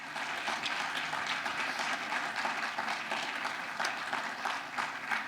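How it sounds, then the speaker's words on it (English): Student composers receive another round of applause from the audience at a Morton High School concert, steady, dense clapping that holds evenly for several seconds at a moderate distance, with no voices over it. "let's give them one more round of applause as they head out to their tables"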